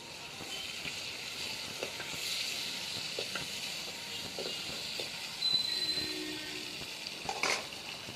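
Chopped onion frying in a clay pot as the base of a dried anchovy curry: a steady close sizzling hiss with soft stirring scrapes and a couple of brief louder crackles.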